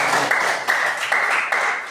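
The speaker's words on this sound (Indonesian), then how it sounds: "Kita berikan tepuk tangan." Students in a mathematics classroom clap after a group presentation, a short burst of applause whose bright clatter rises and dips in waves and ends within a couple of seconds.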